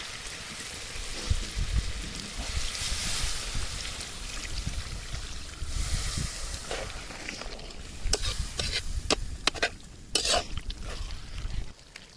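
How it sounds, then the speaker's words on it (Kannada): Chicken lightly fried in a pan hisses and sizzles as water is poured in, a steady, close bubbling crackle with sharp clicks near the end and no voices. "ಚಿಕನ್ ಲೈಟಾಗಿ ಫ್ರೈ ಆಗಿದೆ, ಇದಕ್ಕೊಂಚೂರು ನೀರು ಹಾಕ್ಕೊಳ್ತಾ ಇದ್ದೀವಿ."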